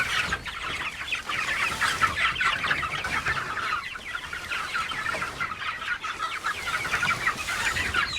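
A large flock of meat chickens on a farm raising about 2000 birds clucks and murmurs continuously in a dense, steady chatter at moderate loudness, with no voices over it.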